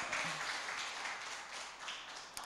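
A church congregation applauds during a Portuguese-language service, a fairly faint, steady patter of many hands clapping together for a couple of seconds.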